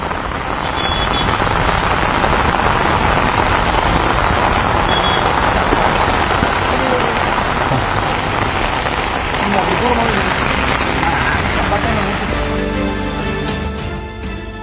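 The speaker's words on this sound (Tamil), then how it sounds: "சென்னை உள்ளிட்ட புறநகர் பகுதிகளிலும் தொடர்ச்சியாக தற்போது மழை பெய்து வருகிறது" Steady rain falls in Chennai, a dense continuous hiss on surfaces at close range, with low traffic rumble from passing vehicles underneath throughout.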